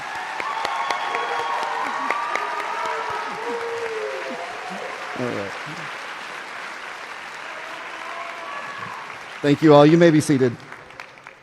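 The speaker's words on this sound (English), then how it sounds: "please give them a huge round of applause" A graduation crowd at Richarte High School's 2022 ceremony applauds standing students, a steady wash of clapping that runs under a speaker's voice before tapering off.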